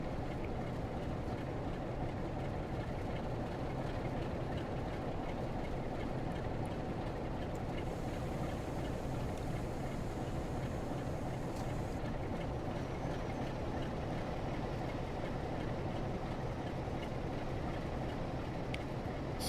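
A rail tour train pulling in late at night at a crossing, with a continuous loud rumble and grinding of wagons rolling steadily and slowing, no voices.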